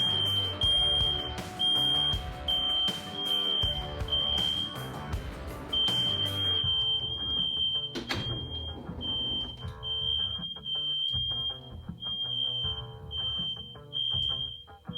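A First Alert smoke detector sounding, a shrill, piercing high tone held almost continuously and close, over a busy background of low music and other noise.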